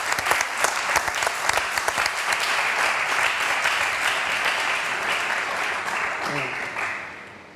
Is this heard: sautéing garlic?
no